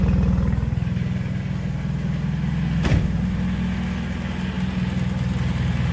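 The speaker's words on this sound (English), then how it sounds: "All you hear is the injectors and that downpipe rattling" A car engine idling on E85 fuel, steady low rumble with faint injector ticking and a rattling downpipe, close and continuous, one brief sharp transient midway.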